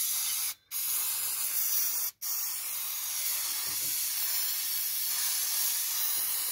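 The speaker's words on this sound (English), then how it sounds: "So I'm just going to get some spray on contact adhesive." A can of spray-on contact adhesive hisses in long, loud, continuous bursts during a 1978 VW Westfalia camper cab seat overhaul, with two brief pauses near the start before a steady spray.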